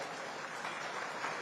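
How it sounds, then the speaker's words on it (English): Audience applause welcoming India's External Affairs Minister Dr. S. Jayashankar at a diaspora women's leadership event, a steady dense wash of clapping that holds at an even level with no breaks. "Ladies and gentlemen, a big round of applause."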